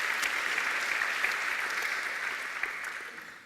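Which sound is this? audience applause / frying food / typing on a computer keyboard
audience applause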